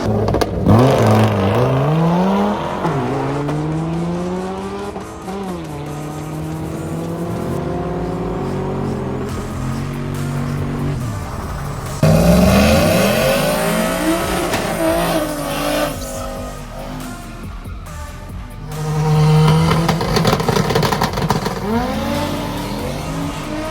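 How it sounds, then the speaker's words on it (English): Race cars lap a track one after another, engines revving loudly up and down as they pass close by, with bursts of tire squeal and skidding between the passes. "We're just gonna have cars making laps now."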